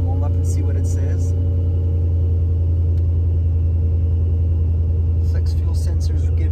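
A 2003 Ford Mustang Cobra engine idles steadily up close, a loud constant low rumble with faint sharp clicks and voices murmuring over it.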